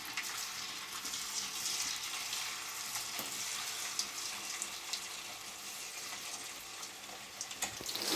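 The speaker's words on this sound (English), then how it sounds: "Now let us deep fry the prawns." Marinated prawns deep frying in hot oil give off a dense, continuous hiss and bubbling sizzle, steady and close, with faint clicks scattered through.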